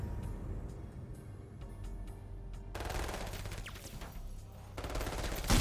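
Chain guns fire in the tactical video game Menace, rapid mechanical bursts that start sparse, then erupt into loud sustained volleys over a low rumbling background.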